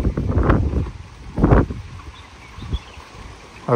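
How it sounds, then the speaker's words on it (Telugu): Strong wind blowing fog across a hilltop at Mahabaleshwar, Maharashtra, with loud gusts battering the microphone in bursts and a steady rushing roar between them. "ఆ గాలి మొత్తం తోసుకొచ్చేసింది ఇటువైపు అంతా"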